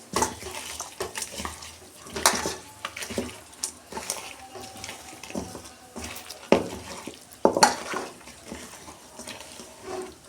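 Spiced chicken pieces being mixed by hand with turmeric and salt paste, with wet squelching and slapping close up in irregular bursts, alone without talk.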